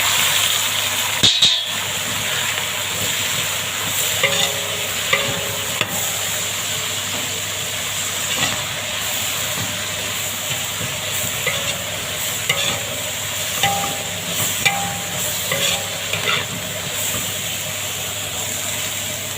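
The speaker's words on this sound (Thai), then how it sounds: "แล้วก็ผัดให้เข้ากัน" Chili is stir-fried in a hot pan, giving a continuous loud sizzle and hiss broken by scattered scrapes and clanks of the utensil against the metal, with no talking over it.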